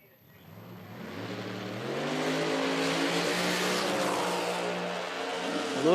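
Nitro drag racing car on a time trial run at an IHRA Outlaw Nitro event, its engine roaring loud and rising steadily in pitch as it accelerates down the strip, sustained and close for several seconds.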